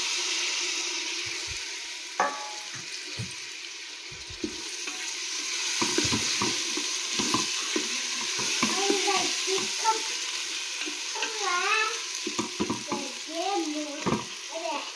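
Tomatoes sizzle steadily in a hot pan for chicken biryani while a spoon stirs and scrapes them, with continuous frying hiss and repeated scraping strokes close by, and a person speaking intermittently over it.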